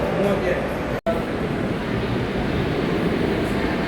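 Steady, loud rumbling roar of a metro train at a station, with a brief cut to silence about a second in, then the rumble carrying on.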